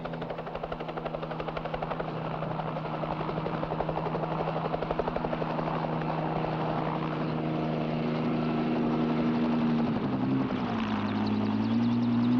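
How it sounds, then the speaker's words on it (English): A helicopter approaches with a steady, loud rotor chop and engine whine that grows slightly louder and shifts in pitch near the end, with no voices over it. "The helicopter's coming"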